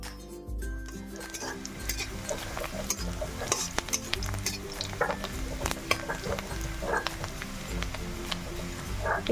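Onion and bay leaves stirred into hot oil with panch phoron for a pork dish, a continuous sizzle broken by frequent scraping and clinking of a metal spoon against the pan.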